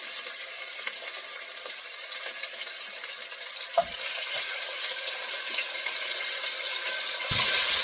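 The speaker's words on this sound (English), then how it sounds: "Now it is time to sear the boned in pork shoulder." A bone-in pork shoulder sears in a hot pan, giving a steady, even sizzle throughout, with a couple of faint knocks near the middle and end.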